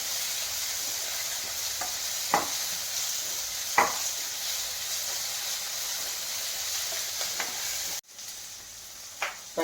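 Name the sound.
tomato frying and being stirred in a pan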